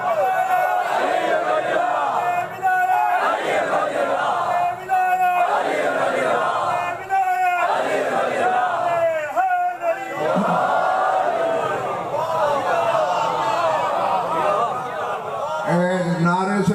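Large crowd at a Muharram majlis chanting religious slogans in loud, rhythmic call-and-response bursts, voices rising and falling together in repeated waves for the whole stretch.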